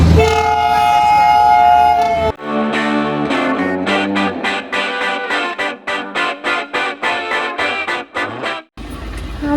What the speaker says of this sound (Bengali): সামনে দেখছি হেরিটেজ টয় ট্রেন আসছে